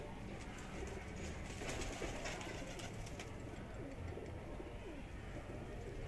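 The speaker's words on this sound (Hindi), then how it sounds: "और माशाल्लाह से ये कबूतर सामने है" Pigeon cooing outdoors at dusk during a homing flight, a soft low murmur running steadily under broad background noise and wind.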